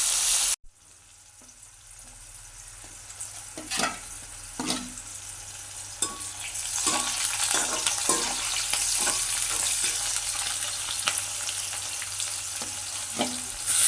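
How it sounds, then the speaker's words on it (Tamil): Eggplant sizzling steadily in a frying pan as it is sautéed until golden, with intermittent scrapes and stirring knocks close by, no talk. "சரி கத்திரிக்காய் நல்ல பொன்னிறமாக வரும் வரைக்கும் நாங்கள் இப்படி வதக்கி கொண்டு போகணும்."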